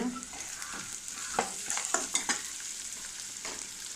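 Steady sizzling of onions with turmeric, salt, pepper, cumin and sambar powder in a pan, a spatula scraping and tapping in short bursts, close by, without any talking.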